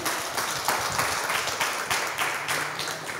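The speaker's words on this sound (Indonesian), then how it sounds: "kita berikan tepuk tangan dulu dong untuk Pak Menteri yang sudah hadir" A room full of people at a campus talk show claps for a government minister in lively, uneven bursts, close and fairly loud, keeping up throughout.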